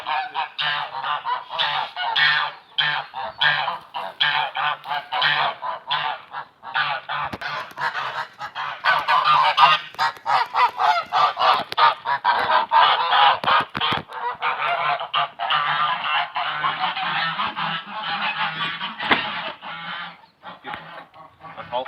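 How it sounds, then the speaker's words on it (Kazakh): A flock of domestic geese being herded into their shelter on a farm, honking loudly and continuously in overlapping harsh calls close by, with a few clucking chickens mixed in. "Қаздарды кіргізетін боламыз."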